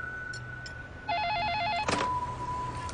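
A telephone rings indoors with one warbling electronic trill lasting under a second, followed by a sharp clunk and faint background tones.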